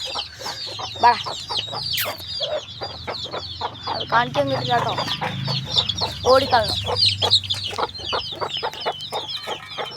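Young chicks peep and cluck busily and close by, with a rooster-like call among them, while a person talks briefly over the birds.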